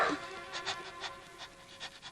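A dog pants rapidly and rhythmically close by, short breathy huffs repeating in a steady stream, with no talking over it.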